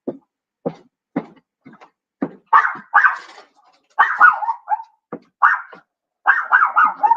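A dog barking indoors in a kitchen, a string of short sharp barks that grows into longer, more agitated bursts and yelps, loud and close, alone without speech.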